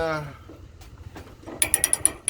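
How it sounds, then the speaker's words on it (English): New ratchets cranked while working on a broken trailer, a series of about six sharp, evenly spaced metallic clicks close by, following a faint murmur of voice. "these new ratchets are actually pretty good"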